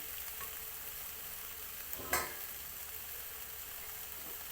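Asparagus and pork stir-frying in a pan, a steady close sizzle with one sharp scrape or clatter of the spatula midway, no voices.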